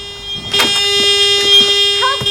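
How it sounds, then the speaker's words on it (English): A car alarm sounds from a vehicle in a garage, a loud, steady electronic tone with wavering pitch that fills the short stretch, while faint voices murmur underneath. "Sounds like the alarm's screwing up."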